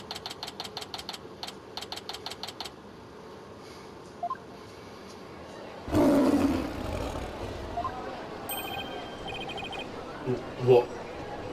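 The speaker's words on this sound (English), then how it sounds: "It's the cry of a local bird known as a warbat." Roaring cry of a warbat bird in the Ace Attorney game, a sudden loud roar bursting in after a run of rapid beeping text blips, followed by game sound effects and chimes.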